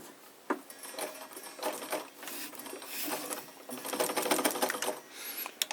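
A Necchi Supanova sewing machine runs in quick, steady bursts of rapid clattering stitches, close and fairly quiet, with small clicks between runs and a brief pause or two.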